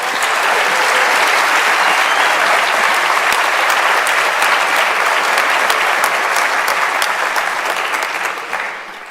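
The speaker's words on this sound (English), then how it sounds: "give a round of applause to your tutors on stage here and beyond" Graduation audience at an engineering and built environment faculty ceremony applauding tutors on stage: dense, sustained clapping from a large crowd, loud and steady throughout, tapering slightly at the very end.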